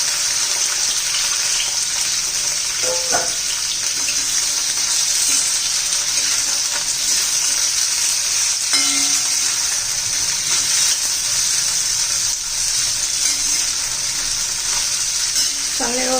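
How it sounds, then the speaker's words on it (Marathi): Bell pepper pieces sizzle in hot oil in a pan, a steady, loud frying hiss that runs without a break, with occasional faint clinks of stirring. "आता शिमला मिरचीच्या फोड्या पण तेलामध्ये चांगल्या परतून घेऊ"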